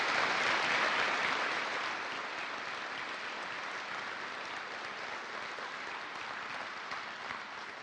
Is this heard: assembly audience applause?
yes